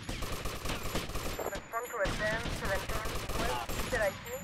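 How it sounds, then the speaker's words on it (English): Enemy gunfire in Vice City with the Hardline mod comes in rapid bursts of shots that stay dense and loud throughout, mixed with game sounds and what may be faint talk. "Getting shot from one of them."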